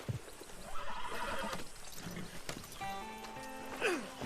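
In the video game Red Dead Redemption 2, a horse whinnies and neighs with clip-clopping hooves, fairly faint against game ambience and music tones, with a louder neigh near the end.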